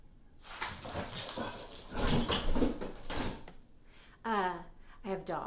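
A dog whimpers and whines in short, high-pitched bursts near the end, after some shuffling and rustling close by.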